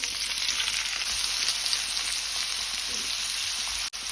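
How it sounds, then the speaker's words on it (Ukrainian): Shredded onion sizzles steadily in hot oil in a frying pan, a close, continuous crackling hiss with a brief clatter near the end. "На сковорідку налила олію, тепер сюди додаю пошатковану цибулю"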